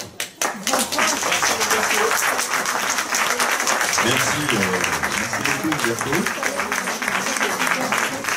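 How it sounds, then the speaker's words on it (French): An audience bursts into loud, sustained clapping after a talk, a dense close rattle of hands running throughout, with someone speaking over it midway. "On peut continuer d'applaudir"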